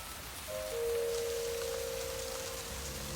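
Rain falls steadily in a LOST television scene, an even hiss throughout, briefly joined by a sustained tonal note, with no speech.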